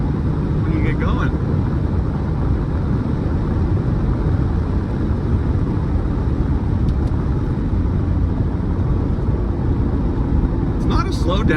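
A 1997 Porsche 993 911 Cabriolet engine accelerates and upshifts, a dense, continuous rumble with road and wind noise throughout, heard from inside the car.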